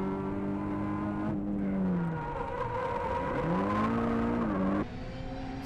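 Drift car at a D1GP drifting competition at Bihoku Highland Circuit in 2001 screams loudly, engine pitch sweeping up and down as it revs, with faint tyre noise and crowd-level background and no speech.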